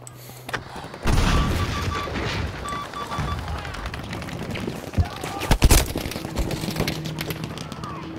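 In the Battlefield V Arras map, sharp gunfire bursts ring out amid a busy battle soundscape, followed by a heavy grenade blast and more shots, with shouted voices mixed in.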